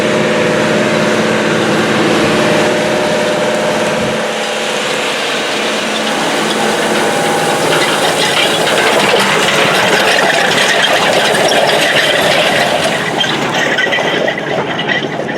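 A Case IH 420 Steiger tractor pulls a 45 ft Humdinger chain disc harrow across a field with a rye cover crop, making a loud, continuous engine drone and rumbling drag throughout, with no talk.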